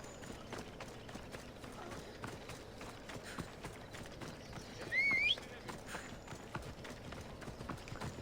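A horse gallops in the video game Assassin's Creed Odyssey, a steady faint drum of hooves under low game ambience, with a short brighter swell midway.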